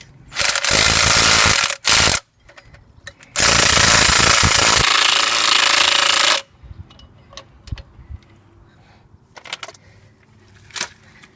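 A ratchet wrench tightens a bolt on a Nissan suspension part in a short loud burst, a brief second pass, then a longer run of rapid clicking before it stops, leaving faint handling noises.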